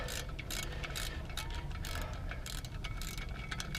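A wrench works on the clutch bolts of a Honda H22A engine during an XTD stage 3 clutch install, giving a steady ratcheting, mechanical clicking over continuous close-up noise, with no speech.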